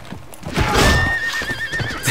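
A loud, close horse whinny in the video game Mount & Blade, with a high wavering tone, over a jumble of hoof clatter and rustling during a duel.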